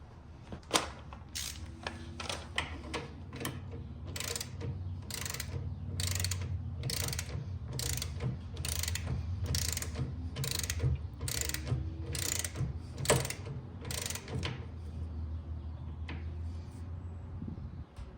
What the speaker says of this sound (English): Let me torque it down, see what we got.